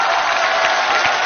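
Warm, sustained applause and cheering from a studio audience at a Chinese TV singing competition, saluting a performing group; broad, steady crowd noise filling the whole moment with no pause.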